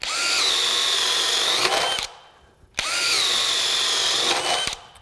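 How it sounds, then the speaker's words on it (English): A DEWALT cordless drill in drill mode at speed 3 bores with a 3/4 inch spade bit, two sustained high whining runs of about two seconds each separated by a brief pause, loud and close with no talking. "we're going to start out with a 3/4 inch spade bit"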